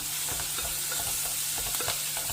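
Chana dal and onions fry in a pan with a steady close sizzle, broken by scraping stirs and soft crackling pops, with no voices.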